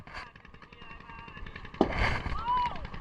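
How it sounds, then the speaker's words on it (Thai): On a burning boat with gas tanks aboard, a sharp bang cuts through crackling and commotion, followed by rumbling bursts and a rising whistle, with voices talking in the background. "ได้ยินเสียงระเบิดไหมฮะ"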